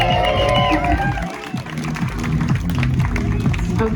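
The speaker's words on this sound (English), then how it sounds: "Give her a bigger round of applause." An audience claps and cheers for a volunteer at a kids' education demo, a dense steady wash of hands and voices with some talk mixed in.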